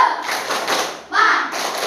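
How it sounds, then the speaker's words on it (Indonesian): A classroom of students gives a spirit clap: short bursts of clapping and thuds with voices chanting alongside, close and fairly loud, ending in a louder burst. "Satu kali tepuk semangat."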